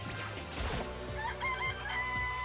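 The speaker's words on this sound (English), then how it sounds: "It's a chicken." A chicken in the Danganronpa video game clucks and squawks in quick bursts, close and fairly loud, with a short crash near the start.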